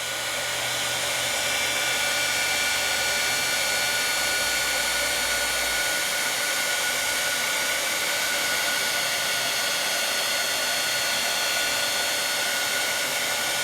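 Steady, loud whoosh of a heat gun blowing hot air to melt embossing powder, a continuous airy roar that holds unbroken from start to finish with a low hum underneath.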